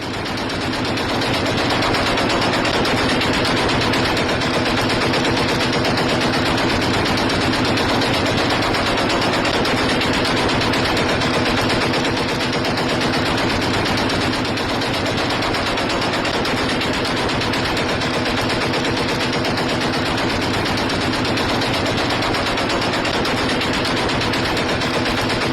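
Heavy, continuous automatic gunfire from Syrian civil war fighting between HTS and Syrian forces, a dense, unbroken roar of rapid shots filling the whole stretch, loud and close with no pauses.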